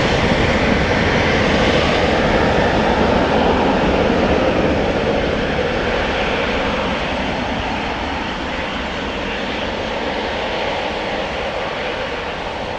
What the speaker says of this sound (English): Delta Airlines has turned to come this way.